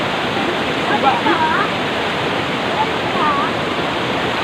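A large river flows as a loud, continuous broadband rush of water, steady and close, with faint voices barely audible beneath it.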